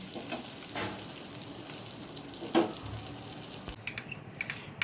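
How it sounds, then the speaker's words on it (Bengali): Fish sizzles lightly as it sautés in a pan, a faint, steady crackle with a few soft clinks of a utensil near the end and no voices. "খুব হালকা ভাজতে হবে।"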